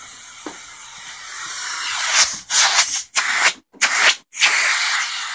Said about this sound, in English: now it just sounds like suction, but it is picking up beautifully.